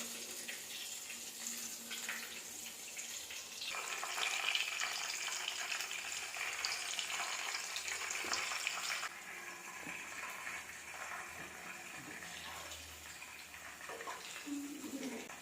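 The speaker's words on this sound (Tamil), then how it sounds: "எண்ணெய் காஞ்சிட்டுது. கலந்து வச்ச மீல் மேக்கரை இங்கே போட்டுக்கலாம்." Soaked meal maker soya chunks go into hot oil and fry with a steady, close crackling sizzle that swells for a few seconds, then settles into an even hiss. No one talks.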